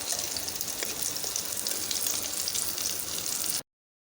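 Oil sizzles and crackles steadily as cauliflower, potato and tomato fritters fry in a pan, then the sound cuts off abruptly.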